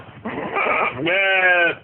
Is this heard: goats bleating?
yes